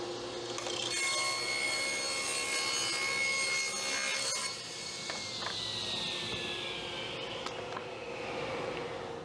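A table saw rips through a sheet of plywood being cut for beehive covers and pallets, with a loud, steady whining cut for about four seconds, then a quieter, lower run as the blade spins on.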